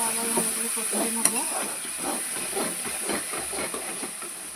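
Ginger-garlic paste water is poured onto spices frying for chicken curry and sets off a loud, close, steady sizzling hiss. A voice is heard briefly near the start.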